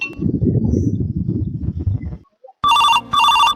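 A telephone ringtone sounds in two loud, closely spaced bursts near the end, following a stretch of rustling, noisy activity and a brief pause.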